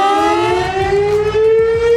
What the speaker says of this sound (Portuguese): tu tá no avião e vem uma sirene de queda de avião